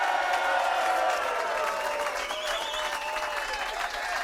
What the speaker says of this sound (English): Give yourselves a cheer